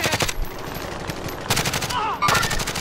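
Automatic gunfire from a rival team in a shooter video game, with bursts at the start and again near the end, a steady rattle and crackle in between and brief electronic tones, all loud and close.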